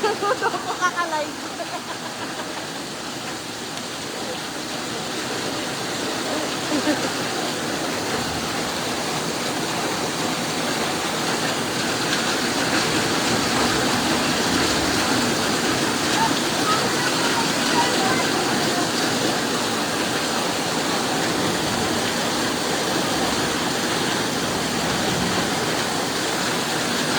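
Strong floodwater rushing in a continuous loud roar of turbulent water, steady throughout, with faint voices in Tagalog underneath.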